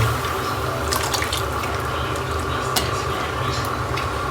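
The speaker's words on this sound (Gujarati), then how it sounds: "પાણી થોડું પાણી નાખવાનું થોડું ઉકળવા દેવાનું" Water poured into a hot tempering pan for millet flatbread, a steady liquid wash with small drips and splashes, continuous and fairly close for the full length, no speech.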